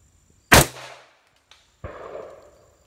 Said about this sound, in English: I'm going to show you how it cycles with a regular powered carbine spring